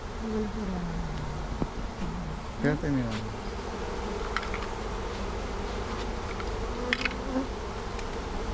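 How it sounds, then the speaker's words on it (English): A dense, steady buzz of many honeybees from a swarm being moved from a bucket into a hive box, flying close by, with a voice talking briefly over the continuous droning hum. "you can see all those flying around bees are just gathering on top of it"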